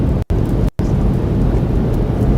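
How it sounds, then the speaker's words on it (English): A heavy thunderstorm on a storm chase through eastern Oklahoma and western Arkansas, with a loud, steady roar of rain and wind broken by two brief dropouts. "one more large storm to get through"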